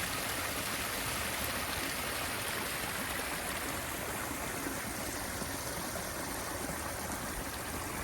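Constant broadband rushing water, like a small waterfall, steady and close with no pauses and no voices.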